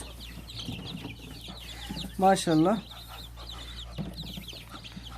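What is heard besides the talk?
chicks cheeping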